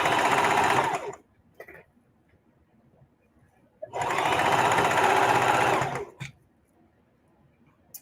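A heavy duty sewing machine stitches through a big rag quilt in two loud bursts of steady mechanical whirring, each about two seconds long, with a quiet pause between them.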